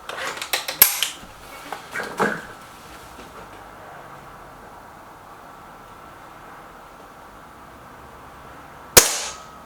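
Air rifles, a Gamo Whisper Sting and an SMK XS36, fire outdoors: a cluster of sharp cracks and clatter early on, then a quiet stretch and one crisp, loud shot near the end.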